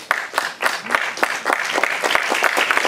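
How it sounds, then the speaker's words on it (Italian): Audience applause at a lecture, a brisk burst of many hands clapping with sharp individual claps standing out, close and fairly loud, lasting about three seconds without speech. "Questo applauso è per Marx"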